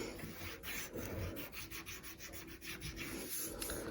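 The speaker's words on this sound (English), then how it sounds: "And then bring those up and burnish it down." A tool rubbing paper flat onto a scrapbook page, giving a soft, close scraping sound in quick back-and-forth strokes that continue steadily throughout.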